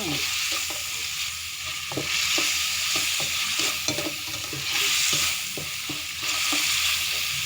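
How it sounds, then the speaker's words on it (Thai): Vegetables and chicken offal stir-fried in a pan, with a steady close sizzle and repeated scraping and tapping of the spatula at an even pace, no voices. "ผัดผักใส่เครื่องใน"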